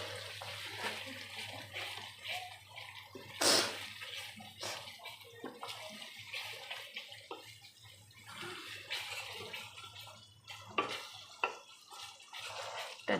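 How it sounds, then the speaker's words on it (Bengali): A bowl is rinsed and washed under running water in a kitchen, with quiet, irregular splashing and sloshing and a brief louder gush partway through, and no speech. "বাটিটা ধুয়ে একটা ফোঁটা জল দিলাম।"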